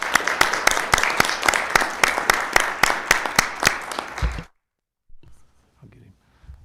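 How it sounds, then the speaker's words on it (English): Audience applause for students at a public school board meeting, a run of sharp, fairly sparse claps lasting about four seconds before cutting off abruptly, followed by faint room noise. "So one more round of applause for all of our students."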